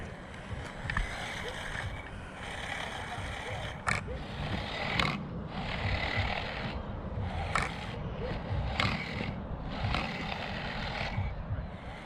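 A 1/28-scale four-wheel-drive LD2801 RC VW Polo on 1S 3.7V power runs over frosty ground at a skate park, giving a steady whirring hiss with brief rising bursts as the throttle is squeezed, close and continuous.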